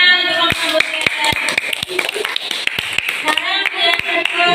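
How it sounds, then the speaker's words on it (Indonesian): Classroom pupils clap in a quick, uneven patter to applaud a student group after its presentation, with a voice talking steadily over the clapping throughout. "Tepuk tangan untuk kelompok Kamboja."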